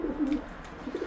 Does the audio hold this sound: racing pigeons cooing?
yes